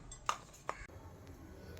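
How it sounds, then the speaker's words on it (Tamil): A metal cooking pot clanks down twice on a stove, two sharp knocks a moment apart in a quiet room, then only faint background hum. "அடுப்பில் வந்து பாத்திரம் வச்சுருக்கேங்க."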